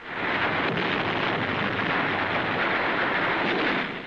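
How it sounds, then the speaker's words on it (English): WWII hand grenade explosions during the Battle of Tarawa form a dense, loud, continuous roar of blasts and rumbling battle noise with no speech. "Hand grenades."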